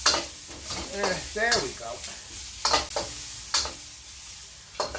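Chicken and zucchini stir-frying in a wok with oil, a steady sizzle broken by the scrape and clatter of stirring, with a person speaking briefly over it.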